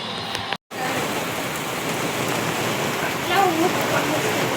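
Steady rain falling under a dark sky, a dense broadband hiss that runs throughout after a brief dropout near the start, with faint voices in the background.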